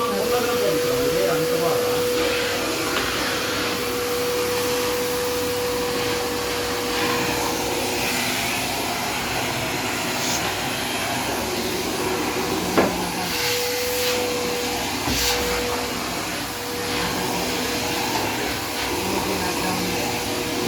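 A vacuum cleaner runs steadily throughout at close range, a constant loud whirring drone with a faint tonal whine, occasional knocks and thumps as it is moved about, no clear voices.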